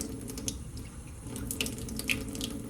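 Cold water trickles from a running tap as it is measured out for pastry dough, a soft continuous stream with a few faint drips and clinks, quiet and close, with no talking.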